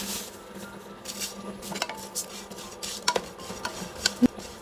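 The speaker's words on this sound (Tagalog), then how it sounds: "Continuous lang po sa paghalo." Biko, Filipino sticky rice, being stirred steadily in a cooking pot, with soft scraping and occasional sharper clinks of the spoon against the pot; close and fairly quiet, no talking.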